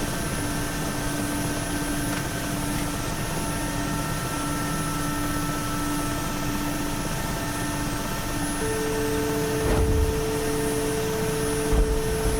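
A Mil Mi-8 helicopter, just after a hard landing, produces a steady, loud engine whine and rotor drone that holds unbroken, with a few low thumps near the end and no voices.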